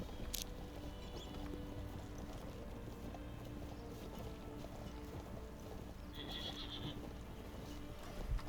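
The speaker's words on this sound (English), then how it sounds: "this horse is a lot better than the one I had previously" Hooves clip-clop at a steady gallop in the video game Fractured Online, a faint continuous rhythm under a low rumbling bed, with a short high whinny rising briefly partway through.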